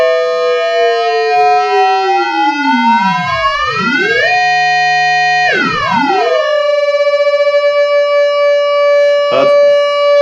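Hordijk modular synthesizer frequency shifter producing inharmonic partials: a loud sustained tone whose overtones sweep and cross, glide down, hold, then settle into a steady buzzy chord.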